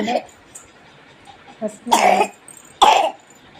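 Two harsh, close coughs about a second apart from a person with a cold follow a few soft vocal sounds.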